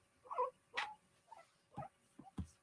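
A dog gives several short, quiet, growly whimpering sounds, each separate from the last, in an otherwise quiet room.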